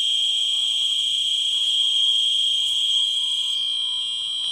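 A piezo buzzer driven at 400 sounds a continuous, loud, shrill electronic tone throughout, steady with slight wavering, no talking.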